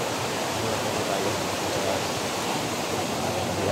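Water of a small stream, crossed along a mountain trail, rushes steadily in a broad, close hiss that holds constant throughout with no other sounds.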